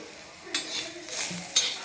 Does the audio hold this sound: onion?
yes